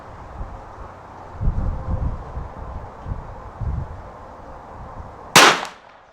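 A single sharp crack from a J. Stevens Model 42 Reliable pocket rifle fired at a target outdoors, coming after several seconds of wind and faint rustling, loud and close with a quick fading tail.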